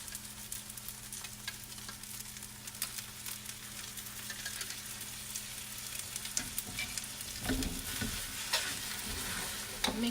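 Sauce being stirred into pho noodles frying in a pan, a steady close sizzle with soft scraping and stirring strokes throughout, growing busier near the end.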